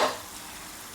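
Sauce simmering in a pan with a soft, steady sizzle and bubble, heard close and alone for a moment.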